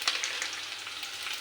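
Ginger, garlic and curry leaves frying in oil make a brief, close, steady sizzle with light crackling spits and no talking.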